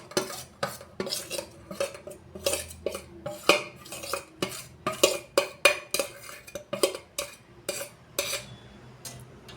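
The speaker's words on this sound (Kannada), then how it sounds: "ಅದನ್ನು ಸಣ್ಣ ಮಿಕ್ಸಿ ಜಾರ್ ತೊಗೊಂಡು ಅದರೊಳಗೆ ಹಾಕೋರಿ ಈಗ ಹಾಕೊಳಕತ್ತೀನಿ ನೋಡ್ರಿ" Spoons scraping and clinking against a small steel mixer jar as chilli, curd and cashews are added, a steady run of close, sharp taps and scrapes with no talk.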